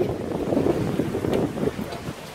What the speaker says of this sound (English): The wind is picking up really fast.